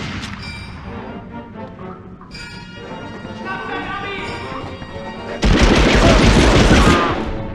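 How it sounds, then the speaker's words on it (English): Medal of Honor first-person shooter combat, sporadic gunshots and explosions that rise into a dense, loud burst of gunfire and crashes near the end, with voices mixed in beneath. "Gunshot audio comes from the real-life weapons they're modeled after"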